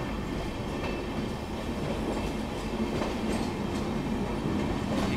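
An LHB passenger train, the Amritsar–Saharsa Garib Rath Express, rolls into Dhandari Kalan railway station with a steady close rumble of wheels and rhythmic clickety-clack of rail joints, heard without speech.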